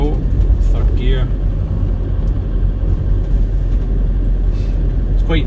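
An Iveco Daily campervan drives along in third gear, its engine and differential giving a steady, loud low rumble and drone. Brief higher bumps and rattles rise over it from time to time, and a voice may talk intermittently.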